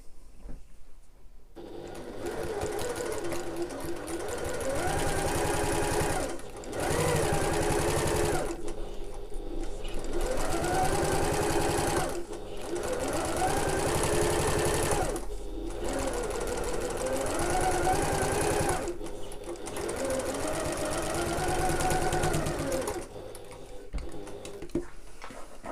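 Sewing machine running in several bursts of steady whirring stitching separated by short pauses, sewing the bottom edge of a backpack, close and clear with no talk.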